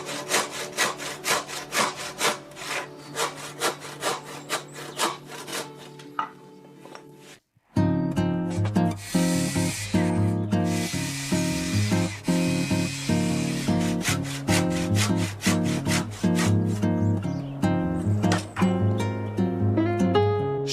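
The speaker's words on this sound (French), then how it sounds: "Et ensuite la scie à main pour finir." A hand saw cuts through a wooden pergola rafter in steady, rhythmic back-and-forth strokes, close and loud. Sawing pauses briefly partway through, then resumes with stronger, rasping strokes.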